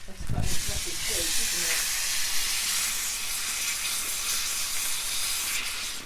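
Fizzy homemade drink in a kitchen hissing steadily as gas escapes from the opened bottle, a loud continuous rush after a brief clatter and a short voice at the start.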